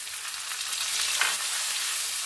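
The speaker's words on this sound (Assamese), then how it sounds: "এইখিনি মই অকণমান দেৰি কেঁচা গোন্ধ যোৱালৈকে ভাজি ল'ম" An onion and tomato paste fries in a pan for Assamese aloo dum, giving off a continuous close sizzling hiss with a faint stirring scrape partway through. No voices are heard.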